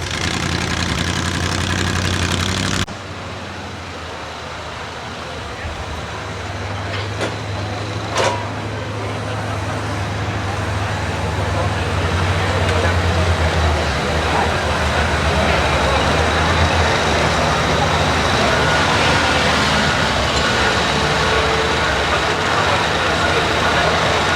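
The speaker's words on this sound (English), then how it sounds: "International tractor motor size is a 466." A modified International tractor with a 466 engine roars at a county fair tractor pull in Minnesota, a loud sustained engine drone that drops briefly then holds steady and heavy throughout, with an announcer talking over it.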